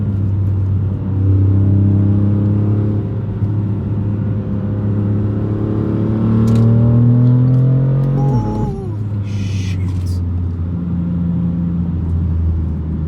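A 2015 BMW M4 engine hums steadily, then revs quickly with a sharp blip as the dual-clutch gearbox downshifts, and the engine settles back into a low drone.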